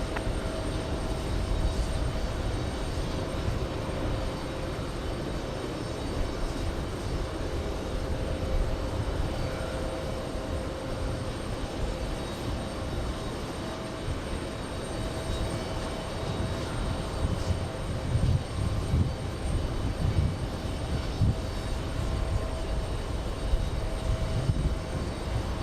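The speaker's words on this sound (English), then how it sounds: "All right, we have a big 777 coming in." A Boeing 777 airliner on approach to JFK airport produces a steady, broad engine roar that holds for the whole stretch at moderate distance.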